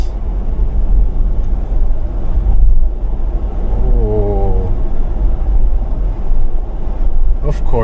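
Steady engine and road rumble inside a 2024 Ford Bronco driven in sport mode, loud and continuous with wind noise, while a person talks over it.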